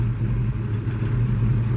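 A 1969 Ford Mustang coupe engine runs close by with a deep, steady, throbbing drone that swells slightly under light throttle, heard alone for a brief moment.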